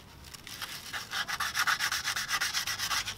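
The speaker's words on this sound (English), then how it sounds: "You're gonna wanna sand this down, you know, for better contact" Sandpaper scrubs a brake rotor from the rear brakes of a VW GTI Mk5, in quick, even back-and-forth strokes, close and fairly loud, with no talking.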